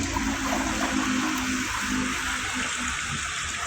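Water sprayed steadily onto a washing machine and along the base of a gutter, a constant loud hissing rush with no pauses from start to finish.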